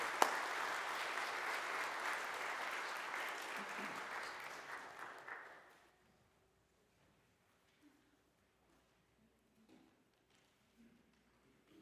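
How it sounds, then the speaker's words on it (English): Audience applause for the musicians at a Westminster Amarillo livestreamed service, a sustained wash of clapping that fades out after about six seconds into near silence. "So will you please give them a round of applause?"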